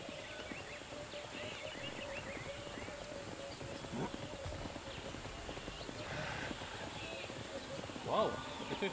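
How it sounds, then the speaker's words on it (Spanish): Hooves trot in the prehistoric survival game Ancestors: The Humankind Odyssey, a faint, rapid clip-clop buried in dense jungle ambience, with a louder thud near the end. "Algo está trotando."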